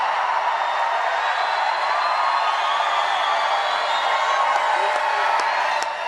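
A large crowd at a Donald Trump political rally in Melbourne, Florida cheers and whoops steadily, a dense, loud roar that holds at the same level throughout with scattered shouts rising above it.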